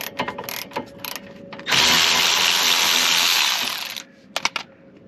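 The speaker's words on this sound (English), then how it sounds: "the Milwaukee battery ratchet is absolute trash" A Milwaukee cordless battery ratchet spins for about two seconds in one loud, steady burst, with light clicks and taps before and after it, used while removing a rear axle carrier on a Mk6 Fiesta ST150.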